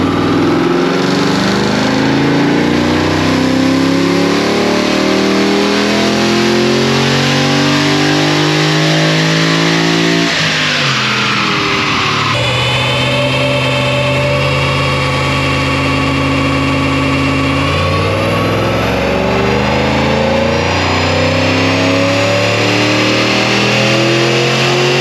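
A car held on a roller dyno screams through a full-throttle power run, its engine climbing steadily in pitch, easing briefly mid-pull, then revving hard again to the top, loud and close throughout.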